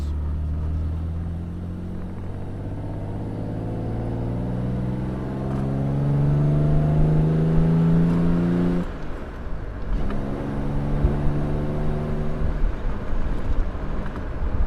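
A 1959 Jaguar XK150S Roadster engine revs and climbs through the gears, a loud droning note rising in pitch, then briefly dropping before building again.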